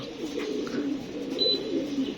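Soft, low cooing from racing pigeons landing at their loft murmurs continuously close by, with a faint chirp or two above it.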